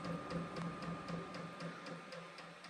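A Vevor diesel heater running on its high setting gives a steady mechanical hum with a fast, regular ticking pulse throughout; faint and continuous, no voices.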